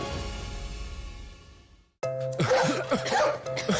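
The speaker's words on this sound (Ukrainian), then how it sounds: "Хто тут у нас кашляє?" A sudden bout of several harsh coughs breaks out after a quiet fade, close and loud, one after another, in a TV advertisement for cough medicine.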